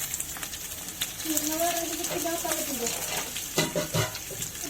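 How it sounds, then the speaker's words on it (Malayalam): Onion sizzling and being stirred in a pan while cooking squid masala roast, a soft crackle with scraping stir strokes, heard under a voice talking. "അതിൽ സവോളയാണ് നമ്മളിപ്പോൾ ചേർക്കുന്നത് കേട്ടോ"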